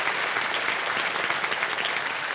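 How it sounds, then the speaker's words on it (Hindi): The studio audience of the quiz show Kaun Banega Crorepati season 16 applauds a contestant, a thick, continuous roar of clapping that stays loud and close throughout. "तालियां बज जाए रिंकल जी के लिए।"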